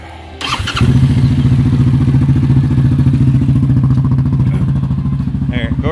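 A 2019 Yamaha Grizzly 700 ATV engine with dual exhaust starts up after a brief pause and settles into a loud, steady, throbbing idle close by, with voices audible over it.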